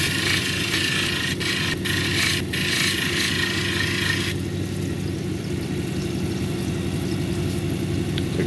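A lapidary machine grinds a labradorite cabochon on a 280 grit wheel, a steady loud motor drone with a gritty hiss and a few scraping bursts early on before the sound settles into an even hum.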